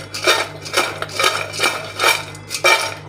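French fries tossed with salt in a bowl, about six rhythmic scraping, rattling swishes of fries against the bowl, close by and with no talk.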